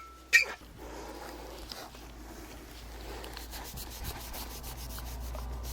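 A water pipe is scrubbed clean before cutting: a sharp tap opens, then a steady, dry rubbing scrape continues close by, even and unbroken, with no voices.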